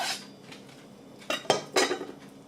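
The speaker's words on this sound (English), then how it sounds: "Onto the cucumber. Okay, nice fine slices. I'm going to cut these into half moons." Knife slicing a cucumber into fine half moons on a board, a few crisp close taps and cuts clustered near the end after a quiet start, with no talking.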